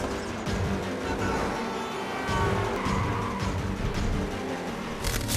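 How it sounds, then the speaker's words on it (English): A car chase from Captain America: The Winter Soldier, with dense, loud engine roar, tire noise and crunching impacts blended into a busy film soundtrack, no talking. "This is one of the best car chase scenes I've seen."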